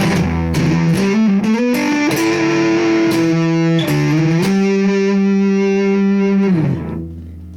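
A loud, fuzzy bass through a Big Muff distortion and a filter pedal plays a short riff of sustained notes, its tone filtered and gritty, before cutting off and fading at the end.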